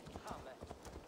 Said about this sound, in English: Ah, horse.